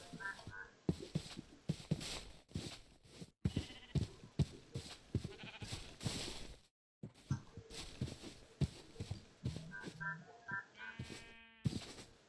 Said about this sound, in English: Oh, some sheep.